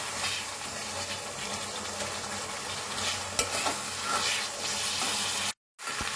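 A ginger and garlic spice paste fries in a pan while being stirred, giving a steady, dense sizzle with scraping strokes and one sharp clink partway through, close and continuous.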